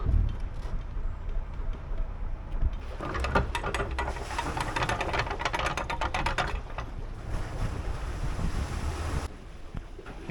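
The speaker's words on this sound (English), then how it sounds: "If there's one thing about these locking mechanisms on this cut, they're very well greased." A canal lock paddle gear on the Saltley Cut in Birmingham is wound with its ratchet, giving a fast run of clicks over steady wind and rushing water, loud and close, with no voices.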